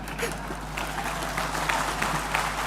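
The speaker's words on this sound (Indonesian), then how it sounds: "tepuk tangannya rodoan gitu." Applause for a fiery speech by the Bank Indonesia governor at an official event, a steady wash of clapping from a seated audience with a low hum underneath, moderately quiet and continuous throughout.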